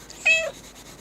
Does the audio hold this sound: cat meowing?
yes